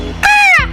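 A single loud, close crow caw from a Hindi-dubbed Shinchan cartoon, a harsh, drawn-out cartoon-style call lasting about half a second.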